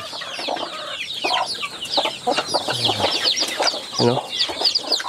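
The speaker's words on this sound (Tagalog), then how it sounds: "Ang mga ganyang inahin ay uhaw na uhaw at gutom na gutom." Hungry, thirsty free-range native hens cluck and chatter continuously up close, a busy overlapping flock with sharp, rhythmic calls and a few louder squawks.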